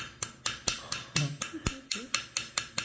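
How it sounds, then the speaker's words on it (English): A hammer strikes a metal fishing spoon lure to texture it. There are about a dozen sharp, close, evenly paced metallic taps with no talking. "So hammer it till you like it, or just hammer it till you don't like it."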